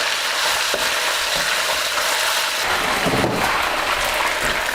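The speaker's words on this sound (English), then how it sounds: "In goes our beef. And we just want to cook this through for about 2 or 3 minutes." Beef sizzles in a wok with about two ladles of hot oil for a Chinese takeaway satay beef, a steady dense crackle and hiss throughout, with a faint clink of stirring partway through and no talking.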